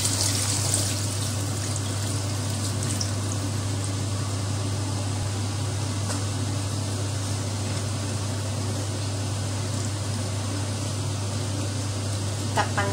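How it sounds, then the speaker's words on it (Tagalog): Water poured into a pot of pork sinigang with radish, a soft continuous trickle over a steady low hum, with a voice faintly present in the background. "At dagdagan siya ng tubig."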